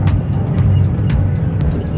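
A Jeep on a sunset tour in rural Cambodia drives along with a steady, loud low engine and road rumble, close and continuous, with wind buffeting over it and no talking.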